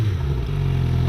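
A 2016 Suzuki GSX-R 750 sport motorcycle fitted with an M4 growler exhaust idles close by with a deep, steady low rumble that rises slightly at the very end.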